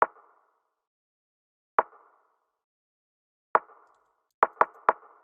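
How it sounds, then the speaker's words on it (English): A lo-fi beat's rim hits sound alone in a sparse pattern: two spaced single clicks, then a quicker cluster of four, each short, dry and woody with a brief ringing tail. "The rim pattern just sounds like this"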